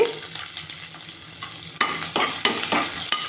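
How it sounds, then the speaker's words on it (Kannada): Onions and curry leaves fry in a pan with a steady close sizzle, broken by several sharp scraping stirs toward the end; no one speaks. "ಚೆನ್ನಾಗಿ ಫ್ರೈ ಆಗಬೇಕು ಇದು ಈರುಳ್ಳಿ ಚೆನ್ನಾಗಿ ಫ್ರೈ ಆಯಿತು"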